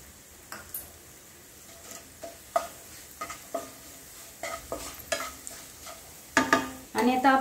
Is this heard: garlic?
yes